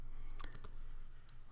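A single R key pressed on a computer keyboard gives a few quiet, close clicks around the middle of the moment, with a faint extra tap near the end over low room hum.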